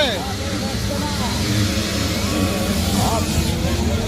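Youth motocross bikes in the 65cc and 85cc classes race past, a steady droning engine roar with rising and falling revs throughout, under continuous loud talking over the noise.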